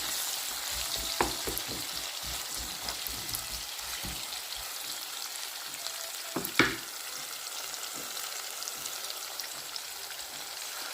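Onions fry in a pan with a steady, close sizzle, broken by occasional scrapes and clacks from stirring, with no voices.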